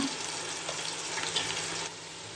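Ginger garlic paste frying in a pan for a mutton biryani, a steady close sizzle with faint stirring scrapes throughout, easing slightly near the end, with no talking.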